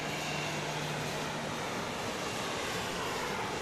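An airplane at Dallas Love Field airport on a Saturday night, heard as a steady, broad engine roar that holds at an even level throughout, with a faint low hum at the start and no talking.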